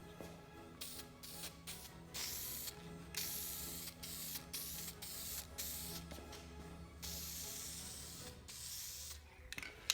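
A spray can applies charcoal gray coating to a cracked vinyl dashboard in a Toyota pickup, giving loud, steady hissing bursts separated by short pauses, close to the listener and with no talking.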